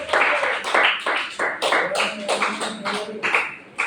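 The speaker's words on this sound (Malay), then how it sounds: "Tepuk tangan untuk kawan kita" A classroom of students claps for a classmate in a form three design and technology lesson, the loose, uneven handclaps coming in bursts close by, with chatter mixed underneath.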